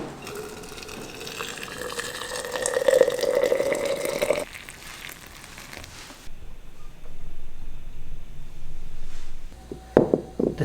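Water is poured steadily over dried porcini mushrooms for ramen, a gurgling, rising fill that cuts off, then softer trickling and rustling, ending in a few sharp knocks.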